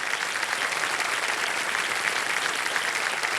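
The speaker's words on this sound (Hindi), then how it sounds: "तालियों के साथ उनका स्वागत" Studio audience applause on the set of the Hindi quiz show Kaun Banega Crorepati (KBC) season 17, welcoming a contestant's mother; dense, steady clapping from a large crowd filling the whole stretch.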